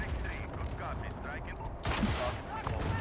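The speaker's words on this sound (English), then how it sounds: "Airstrike over there." In a Call of Duty Modern Warfare match, an airstrike lands with a sudden heavy blast about two seconds in, a broad booming burst rising over a continuous backdrop of rumbling battle noise and scattered firing; voices murmur underneath.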